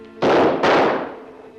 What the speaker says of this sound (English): Trying to kill me with bullets is a wasted effort